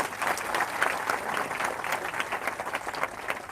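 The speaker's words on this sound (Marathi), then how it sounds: "एकदा जरा टाळ्या होत्या त्यांच्यासाठी" Applause from a crowd gathered at a protest rally in Nashik, dense steady clapping at moderate distance lasting throughout without pause.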